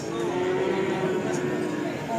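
A PO (Ongole crossbred) bull calf lets out a long, steady moo at a busy cattle market, close and clear against a constant crowd murmur.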